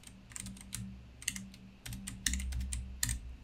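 Code is typed on a computer keyboard in quick, irregular bursts of clicky keystrokes, with a few heavier key presses, close and fairly quiet, no talking.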